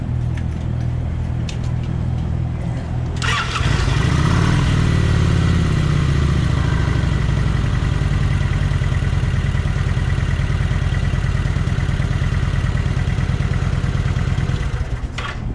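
A 2007 Kawasaki Vulcan 900 motorcycle is cranked and fires up, then runs at a steady, loud, close rumbling idle for over ten seconds before shutting off.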